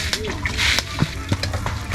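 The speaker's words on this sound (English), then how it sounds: "we're now adding hot water to the just pounded or mixed cassava dough" Hot water splashing and sloshing as it is poured into freshly pounded cassava dough for Ghanaian tokuma, with wet splatters and stirring over a steady background.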